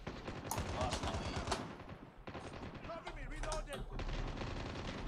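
Rapid bursts of automatic gunfire and single shots in the mobile shooter game Call of Duty Mobile, loud and dense, firing in repeated volleys with short gaps across the whole stretch.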